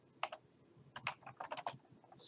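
Fingers type on a computer keyboard in a few quick bursts of close, light key clicks with short pauses between, quiet and with no voices.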